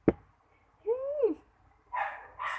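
A dog in a home setting gives a sharp close bark, then a rising and falling whimpering yelp, followed by two short bursts of rougher barking noise.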